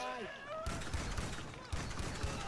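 Rapid bursts of gunfire in a video game, dense and repeated, with a brief tonal effect at the start; fairly quiet overall.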